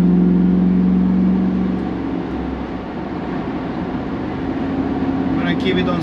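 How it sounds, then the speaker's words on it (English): A 2004 Chevrolet SSR LS convertible with a 5.3L V8 and rear-wheel drive accelerates on the highway. Its steady low engine drone and road roar stay loud and continuous throughout, with a slight dip midway. "I'm going on highway and put some gas here"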